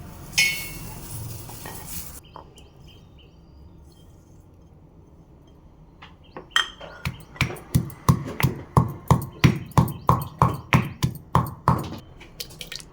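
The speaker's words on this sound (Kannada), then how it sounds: "ಈ ಎಲ್ಲ ದಿನಸುಗಳನ್ನ ನಾನು ಕುಟ್ಟಣಿಗೆಯಲ್ಲಿ ಹಾಕಿ ಕುಟ್ಕೊಂಡ್ಬಿಡ್ತೀನಿ ಮೊದಲು" Spices, salt and curd for masala buttermilk are pounded in a mortar. After a few early clinks and a quiet pause, a steady series of about twenty rhythmic, sharp thuds follows, close and loud.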